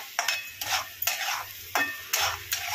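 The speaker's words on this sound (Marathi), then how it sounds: "सारखं ह्याला असं फ्राय करत राहावं लागतं, नाहीतर असं खाली चिटकतं।" Egg bhurji with green chillies frying in a pan, sizzling under a spatula that scrapes and stirs in five or six distinct strokes, each a short rasping sweep over a low steady hiss.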